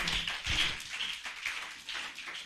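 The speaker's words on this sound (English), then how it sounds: "Please, let's give her a standing round of applause." Scattered applause from an audience at a pharmacists' professional and business summit, a soft, uneven patter of clapping that rises and dips across the moment without any talk over it.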